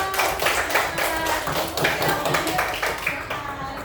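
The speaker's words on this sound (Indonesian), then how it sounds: "tepuk tangan dong" Children in a third-grade elementary classroom clap together in a lively, uneven burst of many hands, steady and close, while a voice talks over it.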